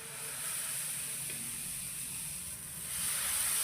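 Rice-flour amboli batter spread on an oiled, very hot cast-iron tawa sizzles with a steady, soft hiss that swells slightly toward the end, with no talking.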